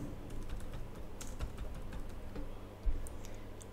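Typing on a computer keyboard while entering a name during a Rocky Linux virtual machine setup, a steady run of soft, close key clicks with a louder tap near the end and no talk.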